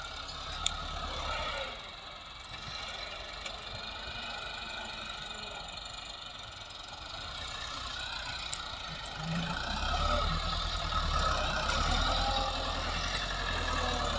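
A Massey Ferguson 385 tractor with a hydraulic problem runs in a field, its engine droning at low, steady pitch and growing heavier and louder toward the end as it labors under load.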